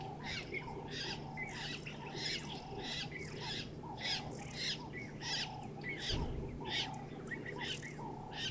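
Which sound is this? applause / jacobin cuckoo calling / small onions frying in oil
jacobin cuckoo calling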